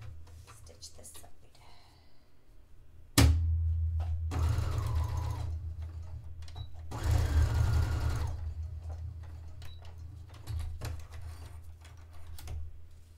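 A home sewing machine runs in two short bursts while stitching a dress made from bed sheets, with quieter handling sounds and someone speaking between the runs.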